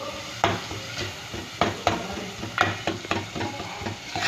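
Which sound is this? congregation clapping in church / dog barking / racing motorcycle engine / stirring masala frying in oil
stirring masala frying in oil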